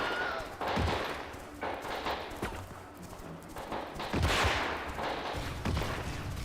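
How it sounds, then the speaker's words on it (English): Small arms fire, both incoming and outgoing, heard from inside a train: bursts of cracking shots and rattling volleys over a rumbling background, loud and fairly close, with a few sharper reports standing out. "Small arms fire, both incoming and outgoing, can be heard from outside."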